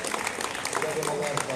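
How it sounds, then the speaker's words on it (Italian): An audience claps for a representative of a radio club at a municipal ceremony in San Severo thanking volunteers. The applause is a brief, steady wash of clapping with a voice speaking over it. "Salutiamo con un applauso il rappresentante di Radio Club"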